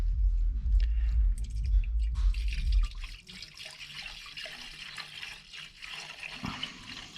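Coolant mixed 50-50 pours and gurgles into a 2008 Chrysler Sebring 2.7L after thermostat and alternator replacement, a low sloshing rush for the first few seconds, then a thinner steady trickle splashing near the filler.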